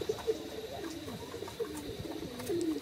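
Pigeons coo close by in a loft, with soft, rolling, repeated coos that rise and fall in a steady rhythm over a quiet background with no speech.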